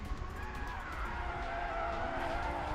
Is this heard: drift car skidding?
yes